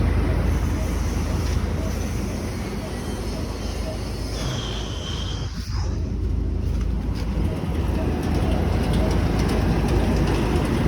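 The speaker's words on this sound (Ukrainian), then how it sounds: "Настільки тихенько робить цей комбайн." A John Deere combine harvester engine runs quietly outdoors, a steady, low broadband rumble with wind-like noise, holding an even level throughout.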